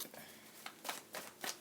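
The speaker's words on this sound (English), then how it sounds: "Okay, no more shuffling." Tarot cards being shuffled by hand during a reading, a few quick soft riffling bursts spaced unevenly, close and quiet with no talk.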